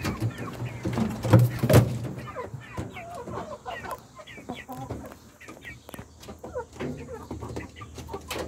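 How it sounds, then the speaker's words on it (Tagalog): Several small roosters and a hen on a farm cluck and crow in a busy, overlapping stream, with a louder burst of calls early on and steady chatter after. "Bali 4 na rooster na maliliit"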